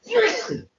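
A single sharp sneeze, close and fairly loud, lasting under a second with a breathy burst and quick fade.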